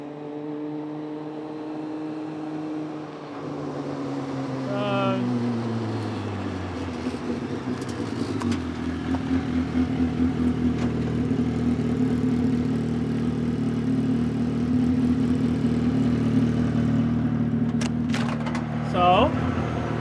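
A 1981 Toyota Starlet fitted with a swapped Hayabusa engine and a hand-rebuilt differential drives under its own power. The engine note rises early, then holds as a loud, steady drone for the rest of the clip.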